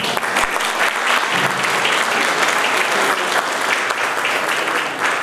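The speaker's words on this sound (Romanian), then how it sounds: "Eu zic că merită să-i aplaudați" Sustained, dense applause from a large audience at a civic ceremony in Petroșani, honoring young volunteers, steady and loud throughout without pause.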